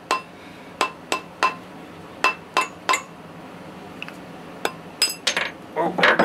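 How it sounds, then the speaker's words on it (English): A hammer or rubber mallet knocks a ring made from a coin off a metal mandrel. The sharp metallic clinks come one at a time in an uneven rhythm, close and fairly loud, and bunch together toward the end. "Just take a hammer or a mallet, rubber mallet, whatever."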